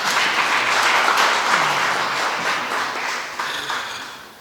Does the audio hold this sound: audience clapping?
yes